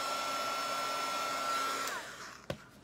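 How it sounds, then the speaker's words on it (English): A heat gun blows steadily on a Dollar Tree artificial flower, a constant airy whir that winds down near the end and ends with a couple of soft clicks. "Don't burn your fingers because that heat gun or the heat tool will get hot."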